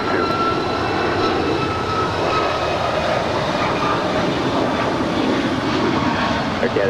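United jet airliner on its takeoff roll at LAX, a loud, steady engine roar that holds without a break, with radio chatter over it.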